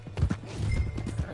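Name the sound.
horse hooves clip-clopping, from a video game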